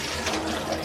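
Water runs steadily over rice being washed, a continuous close splashing and gushing flow with no pauses.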